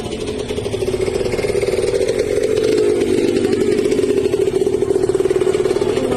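A motorcycle engine runs steadily nearby at a mid-pitched drone along a stone church path in Laurel, Batangas, holding a constant loud hum with no talk.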